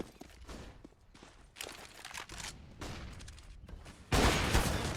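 Rapid gunfire in a professional Counter-Strike esports match, with bursts of shots and footsteps building into a louder, denser volley near the end, no commentary over it.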